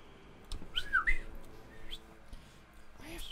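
A short whistle-like tone rises twice in quick succession, then again near the end, faint and thin over a soft background in a Sekiro game scene.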